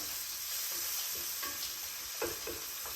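Frozen peas, corn and green beans sizzling in a frying pan, a steady soft hiss with occasional stirring clinks and scrapes, fairly quiet and with no talking.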